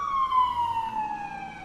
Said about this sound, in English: Siren's going.